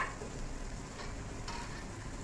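Tomatoes go into a frying curry of taro and baila fish, raising a steady, close hiss of oil with soft stirring scrapes throughout.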